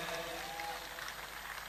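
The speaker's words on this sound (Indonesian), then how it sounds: "Sebelumnya kita berikan tepuk tangan dulu untuk Pak Kapolda dan Wakapolda." Audience applause for a regional police chief and deputy at a religious lecture in Aceh, a soft, steady wash of clapping from a crowd, fairly distant and even throughout the brief moment.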